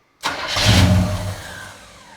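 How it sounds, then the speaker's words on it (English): A car engine with an ignition problem, cranked with a remote starter switch and no key, catches and fires loudly for about a second. It then sputters and fades without staying running, close by, with no voices. "when I pull this trigger, now this has an ignition problem, so it's not going to start"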